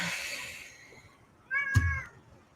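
A cat gives a drawn-out meow at the start, then a second louder, shorter meow with a bump of handling noise, in a quiet room.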